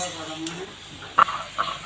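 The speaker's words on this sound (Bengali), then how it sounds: "আলু ভাজাগুলো দিয়ে দিচ্ছি এগুলোকে ভালো করে আরেকটু কষিয়ে নেব" Fried potatoes tossed into a wok-style kadai with raw jackfruit, oil and garam masala paste, stirred with a utensil: a soft, brief bed of frying noise broken by two sharp metallic clinks near the end.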